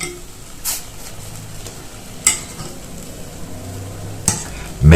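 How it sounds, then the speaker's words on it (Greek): Hot melomakarona cookies, fresh from the oven, are dipped and stirred in syrup, giving soft wet sizzling and stirring sounds with a few sharp utensil clinks against the pot. "τα παίρνουμε και τα βυθίζουμε στο σιρόπι"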